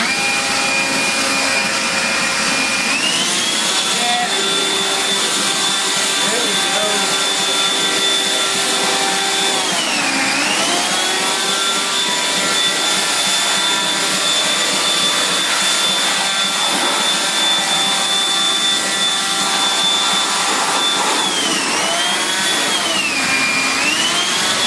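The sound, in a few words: 60 volt electric blower blowing off engine block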